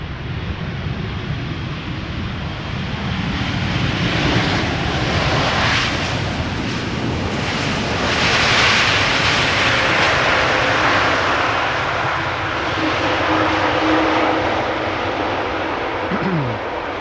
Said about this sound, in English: KLM flight 702 is approaching, arriving from Buenos Aires.